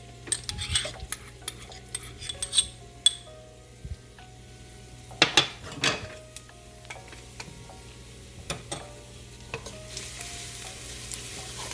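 Minced garlic cloves browning in about three tablespoons of olive oil for arroz caldo, a soft, quiet sizzle with scattered sharp clinks and scrapes of a utensil stirring the pan.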